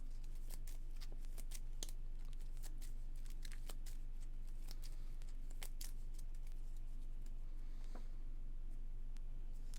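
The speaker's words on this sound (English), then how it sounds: "I need to shuffle the encounter deck since we ran out" A deck of playing cards for a Lord of the Rings card game is shuffled on a table, making a series of soft, close riffling snaps and rustles in an otherwise quiet room.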